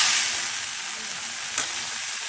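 Dry red chillies sizzle steadily in hot oil in a pan for a Bengali kochu shag dish, a continuous close hiss with one brief louder crackle midway.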